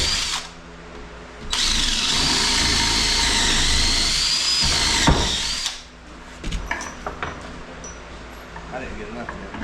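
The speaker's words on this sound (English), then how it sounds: "All I gotta do is drill the holes." A power drill bores holes in an Adirondack chair, a loud whining burst of several seconds between quieter handling noises and tool knocks, with a voice talking nearby.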